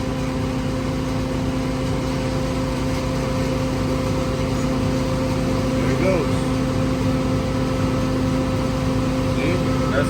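A 5,000-gallon jet fuel truck from 2005 runs its pump with a steady, loud mechanical drone and a constant hum that holds unchanged throughout, while faint voices talk beneath it.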